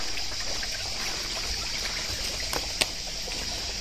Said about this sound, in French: Avec la petite cascade derrière.